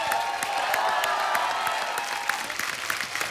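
Studio audience applause and cheering on a Hindi comedy talk show as a film star is welcomed, a loud, fairly steady wash of clapping with scattered sharper claps and crowd noise.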